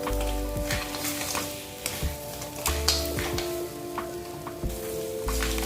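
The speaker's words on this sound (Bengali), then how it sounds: "মশলার সঙ্গে কাঁকড়াটা ভালো করে আমি মিশিয়ে নিচ্ছি" Crab and potatoes stirred in a spicy masala for a Sundarban crab curry, a loud, close sizzle with repeated scraping and clinking of the spoon against the pan, and no talking.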